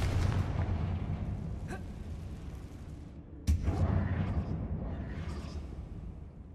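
Confringo spell explosions in Hogwarts Legacy inside an old closed mine: two sharp blasts, the second one louder, over a constant low rumbling ambience, with no talk.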